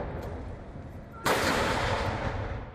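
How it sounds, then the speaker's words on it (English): Ceremonial 19-gun salute for a state welcome in Taipei, Taiwan: a single loud cannon boom strikes sharply after a quiet stretch and its broad rumbling blast lingers to the end. "With a 19-gun salute, Taiwan President Lai Ching-te welcomes St."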